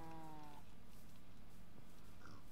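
Cattle mooing in the Minecraft video game: a harmonic moo call at moderate level in the opening half-second, followed by quieter ambient game sounds with no speech.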